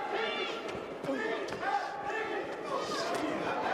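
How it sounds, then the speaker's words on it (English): Crowd chanting inside the Barclays Center arena at a boxing event as it fills up, a steady, distant roar of many voices with rhythmic shouts and a few sharp thumps. "Here's some chants in the crowd here at Barclays Center, which is starting to fill up."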